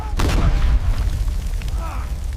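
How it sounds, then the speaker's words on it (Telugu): A huge explosion lands as a deep, heavy boom near the start, its low rumble rolling on and fading under other faint sounds. "భారీ పేలుడు"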